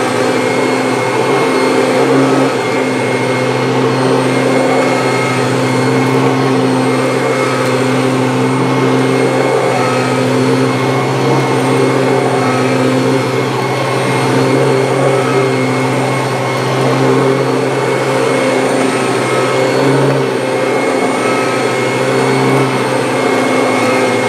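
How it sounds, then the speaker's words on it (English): A Kirby G3 upright vacuum cleaner with self-propel drive runs steadily over carpet, its loud, continuous motor hum and whine holding close and unbroken throughout with no one speaking. "with the self-propel, it's actually really easy to push this vacuum."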